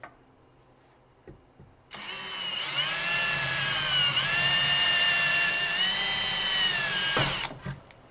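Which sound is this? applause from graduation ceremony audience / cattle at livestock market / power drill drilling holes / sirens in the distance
power drill drilling holes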